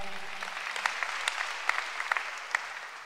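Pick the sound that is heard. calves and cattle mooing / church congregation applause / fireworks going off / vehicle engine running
church congregation applause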